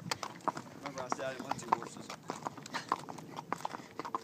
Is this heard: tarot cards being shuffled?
no